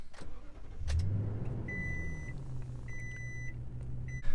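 A 2018 Toyota Tundra pickup started with a traditional key fob: a brief crank and catch, then a low steady idle inside the cab with repeated chime beeps over it.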